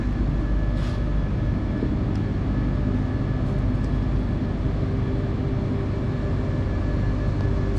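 A free-piston Stirling engine runs on test beside its control cabinet, giving a steady, moderately loud low hum and drone with a faint tonal whine, unchanging throughout and with no voices.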